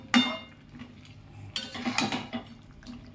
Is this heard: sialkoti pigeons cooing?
no